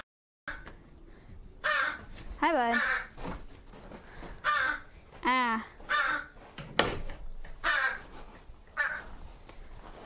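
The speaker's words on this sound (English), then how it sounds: "we have two crows in here" Two crows at a wildlife sanctuary caw repeatedly in loud, close, harsh bursts across the whole stretch, while a person briefly speaks a greeting between calls.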